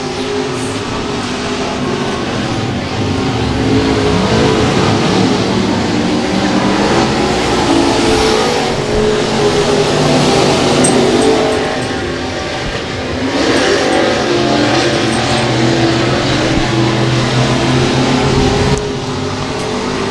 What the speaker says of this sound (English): Four laps down, 4 laps to go for the 25 of Craig Moss as he is driving away from the 22T of Tyler Muirhead